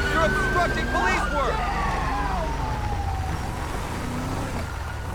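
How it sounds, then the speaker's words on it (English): Police sirens wail in the video game GTA 5 during a highway patrol scene, rising and falling tones sweeping near and loud over a steady engine drone, with some background noise. "Oh, they're sirens."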